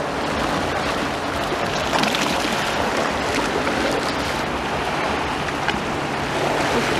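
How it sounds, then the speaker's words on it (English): Steady wash of seawater lapping and sloshing against promenade steps nearby in Blackpool, a continuous gentle surge with light wind and no voices. "Listen to the sound of the waves just lapping up on the steps."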